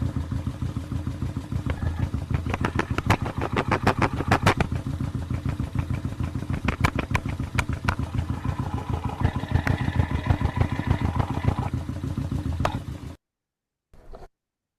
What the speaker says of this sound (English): Let's see what it sounds like at the very tip,